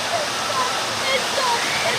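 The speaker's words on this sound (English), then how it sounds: "Oh, there's the first waterfall." A waterfall on a Typhoon Lagoon water ride pours in a steady, broad rushing roar close by, constant and fairly loud with no breaks.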